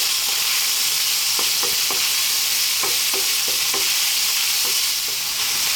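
Garlic and white onion frying over high heat for Ethiopian beef tibs: a loud, constant hiss of sizzling with scattered soft taps of a spoon stirring in the pan, close and steady, no voices.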